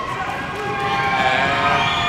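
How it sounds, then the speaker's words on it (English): Noisy crowd at a men's college basketball game between Fresno City College and College of Sequoias, a rising roar during free throws with a commentator talking over it. "crowd making lots of noise."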